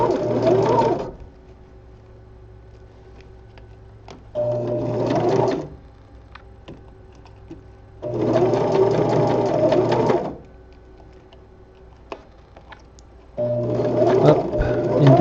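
A sewing machine runs in four steady bursts of stitching, each a second or two long, on spandex gloves, separated by quiet pauses with faint handling clicks.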